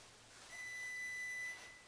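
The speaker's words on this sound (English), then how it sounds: "Alright, the timer is going off." A screen print exposure unit's timer going off, a single steady electronic beep lasting about a second, thin and fairly faint against a quiet room.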